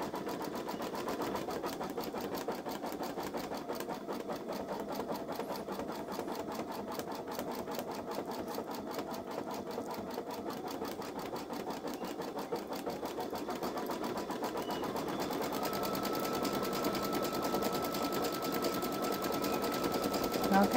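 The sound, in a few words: Babylock Solaris Vision embroidery machine stitching out letter L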